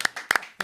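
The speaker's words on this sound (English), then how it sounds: "Can we get a round of applause?" Short bursts of hand clapping from a small podcast audience, a few scattered claps in quick clusters rather than a full ovation, fairly close and moderately loud.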